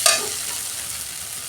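A spice paste with tomato in a pan for a banana-flower (mocha) curry gives a brief sharp scrape of stirring, then a steady soft sizzle of frying that carries on alone.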